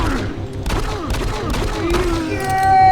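Rapid pistol shots from a DOOM game crack in quick succession over layered in-game effects and a voice, ending in a rising tonal whine.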